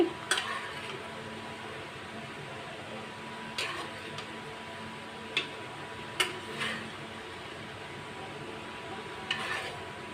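Pieces of koi fish going into a pan of simmering taro corms for a Bangladeshi curry, giving a faint, steady bubbling hiss broken by a few sharp clinks of a utensil against the pan.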